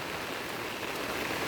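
Heavy rain pours down in a steady, dense hiss that stays loud and even throughout, with no voices.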